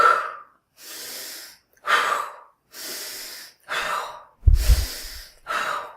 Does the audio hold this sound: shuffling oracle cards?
no